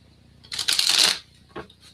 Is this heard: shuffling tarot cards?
yes